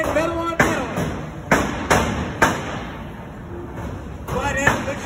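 Combat robots at a fair competition slam together in several sharp metallic impacts spread across a few seconds, heard amid a commentator's voice and arena noise.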